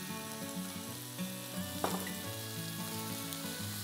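Pork sizzles and fries loudly in a hot wok for Dan Dan noodles, a steady crackle with a brief stir or scrape near the middle and no voices.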